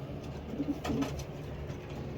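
Pigeons coo at a racing-pigeon breeder station, a few soft throaty rolling calls close by amid low ambient murmur and faint flutter from a flock of birds.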